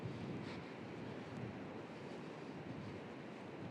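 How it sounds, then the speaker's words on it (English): Sea waves wash onto the Cornwall coast between Porthtowan and Chapel Porth, a faint, continuous distant surf roar blended with soft wind rumble on the microphone, no voices. "See the sea there."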